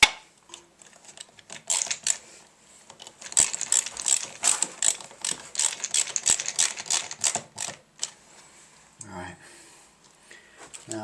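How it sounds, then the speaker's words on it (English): Screwdriver work refitting lights onto a homemade trailer in a garage, with rapid ratcheting clicks and metallic taps that come in dense bursts, close and fairly loud, then ease off before a low clunk near the end. "time to screw the lights back on"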